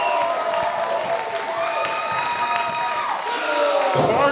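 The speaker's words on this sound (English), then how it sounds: "listen to this crowd" A wrestling crowd at a Timebomb Pro show in Fargo, North Dakota roars in a continuous, loud wash of cheering and shouting, with a commentator's voice running over it.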